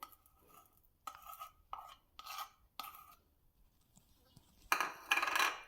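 A spoon stirs a vanilla custard ice cream mixture in a metal bowl, giving a handful of separate scraping, clinking strokes with short pauses between them and a louder, longer scrape at the end, close and fairly quiet.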